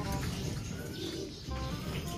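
Racing pigeons coo softly and steadily in a loft, a low continuous murmur of overlapping calls close by with no talk.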